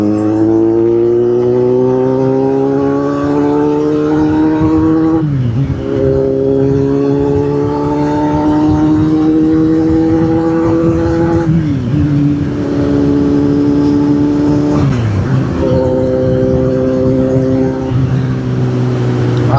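A Kawasaki Z800 motorcycle engine runs loud and close while riding, its tone climbing steadily through each gear before dropping briefly at three shift points, with no talk over it.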